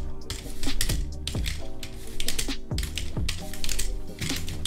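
Rapid clicking keystrokes on a cheap 2-euro computer keyboard during a Fortnite session, mixed with loud tonal game sounds and sweeping effects that partly cover the typing.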